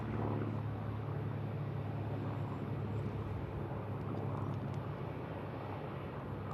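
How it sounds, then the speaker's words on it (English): An aircraft flies over an airfield as a faint, distant broadband roar that stays steady and low in level, with no nearby voices. "There's a plane overflying the airfield."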